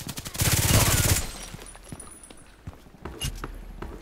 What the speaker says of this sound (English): So my little machine gun.